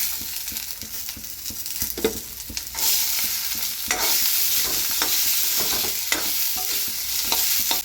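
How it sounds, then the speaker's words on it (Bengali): Peas and potatoes fry together in a pan over low heat, a soft, constant sizzle punctuated by repeated spatula scrapes and knocks, heard close up with no voices. "এবার মটরশুঁটিগুলি দিয়ে দেবো।"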